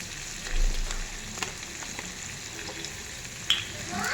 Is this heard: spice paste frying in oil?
yes